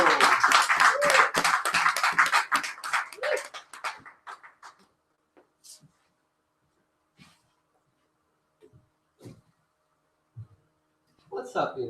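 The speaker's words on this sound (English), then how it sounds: "Let's give a whooping round of applause to Plato" Audience applause at an open mic poetry reading: a dense burst of clapping with voices mixed in, fading out after about four seconds into scattered claps and quiet room noise.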